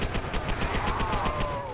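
Rapid automatic gunfire from a machine gun in the online game Roblox, a steady burst of evenly spaced shots repeating about every tenth of a second, loud and continuous with no talking over it.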